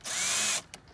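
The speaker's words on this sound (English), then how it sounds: "Line the screws up and screw it on." Power drill whirring in one short, close burst as it drives a screw into a replacement water pump during mobile grooming van repairs, followed by a faint brief click.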